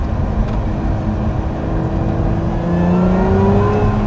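A Lotus Emira sports car engine in sport mode roars close by and climbs steadily in pitch as it accelerates hard, loud and continuous with no talking.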